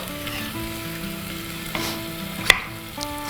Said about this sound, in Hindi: और टमाटर डाल के तुरंत मिक्स एंड मैच कर देना है